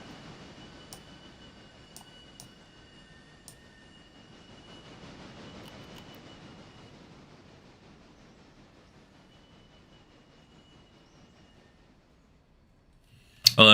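A pair of 480-class locomotive engines from the game Railroader run with a low, steady rumble and a few faint clicks. The rumble swells slightly midway, then fades before a sudden loud burst at the end.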